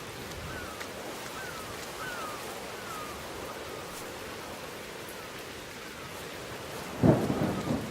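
Steady rain hisses throughout a stormy scene in the video game Whispers of a Machine, with a loud thunder crack bursting in near the end and rumbling on.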